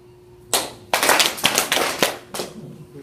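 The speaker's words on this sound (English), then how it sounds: "2 claps." A few sharp hand claps ring out close and loud after a chant, the first ones distinct and then a quick cluster of several slaps, in a quiet room.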